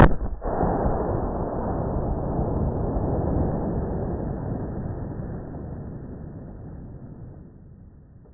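A firework goes off inside a hollow gourd: a sharp bang at the start followed by a long, dull rumbling roar that slowly fades over several seconds, heard alone without voices.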